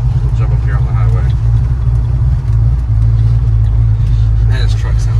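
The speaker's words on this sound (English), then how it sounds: "Man, this truck sounds mean." A 1977 Chevrolet C10 pickup with a 555 big-block V8 cruises on a highway, giving a steady, deep, loud engine rumble with road noise while people talk inside the cab.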